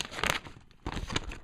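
Paper instructions from an Audio Technica lavalier microphone box being handled, with two bursts of crinkling and rustling, close and fairly soft, separated by a brief pause.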